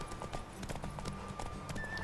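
Horse hooves clip-clop in a quick, steady rhythm during a race in The Witcher 3 video game, close and continuous over a low game soundtrack, with no talk.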